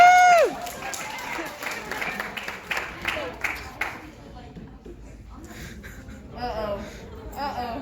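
Audience at a banquet clapping, a burst of scattered hand claps and cheering that fades, with voices chatting and laughing around it.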